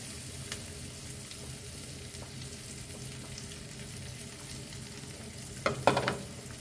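Two eggs sizzle in a hot pan while kimchi fried rice is made. A continuous, even crackling hiss builds to a brief louder flurry near the end.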